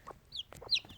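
Mixed-colour chickens at the Gables cluck softly nearby: several short, quiet clucks and throaty calls come in an uneven rhythm over about a second, with nobody talking.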